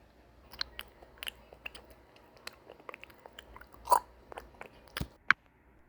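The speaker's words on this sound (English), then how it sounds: "Oh, I got one try to bite a lemon." Someone bites into a lemon with soft, scattered crunching and chewing sounds close by, with one or two sharper snaps and no talking.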